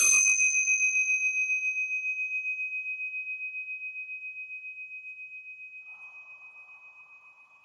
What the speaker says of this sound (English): we're going to go ahead and ring the tincture bells to clear out any